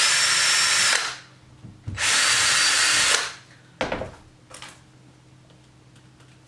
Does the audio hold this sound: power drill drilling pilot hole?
yes